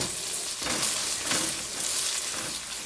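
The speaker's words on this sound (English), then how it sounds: "We're going to cook these until they are translucent." Onions frying for picadillo make a full, steady sizzle that swells and eases as they are stirred, close and loud with no voices.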